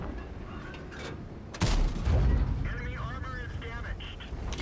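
A tank cannon in World of Tanks, on the XM551 Sheridan light tank, fires with a sudden heavy boom that is followed by rumbling and clattering game effects.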